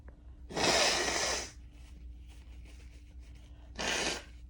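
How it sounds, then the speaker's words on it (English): A person blows their nose in two bursts, a long forceful honk followed a few seconds later by a shorter one, close and fairly loud over a low background hum. "I have to blow my nose."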